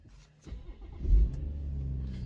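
BMW M140i straight-six engine on a cold start before an exhaust modification, a loud rising roar that settles into a steady, rumbling high idle, heard alone up close.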